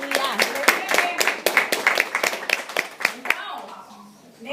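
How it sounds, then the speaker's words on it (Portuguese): Clapping from a church congregation during a worship service, sharp rhythmic claps in steady succession, loud and close, mixed with voices, fading out near the end. "Dá um aplauso aí para vocês."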